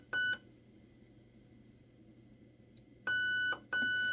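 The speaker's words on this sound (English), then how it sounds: "If I pull the trigger, you will hear 2 beeps." Short, high-pitched electronic beeps from a Raven Evolution Furion ETU airsoft gun trigger unit: one at the start, then after a pause two more close together, clear over a quiet background hum.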